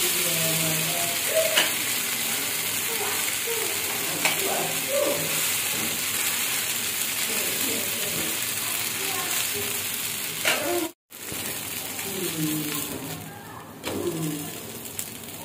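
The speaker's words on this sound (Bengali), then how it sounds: "চলো ধোসাটা এক এক করে ভেজে নিই" Dosa frying on a pan in a home kitchen, a steady close hiss and sizzle running throughout with a brief cut-out partway, faint soft thumps and distant bird calls beneath.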